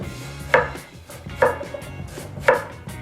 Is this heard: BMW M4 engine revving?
no